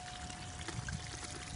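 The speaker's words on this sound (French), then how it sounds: "là je viens d'ouvrir le robinet et la sluice est en action" Water from an opened tap running through an EZ sluice box used for gold panning, a faint, steady trickling flow that continues evenly throughout.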